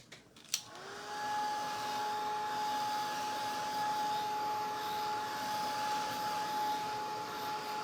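A hair dryer blows on wet paint to dry it: after a faint click it switches on and settles into a steady, droning whine with a constant motor tone, held evenly at moderate volume to the end.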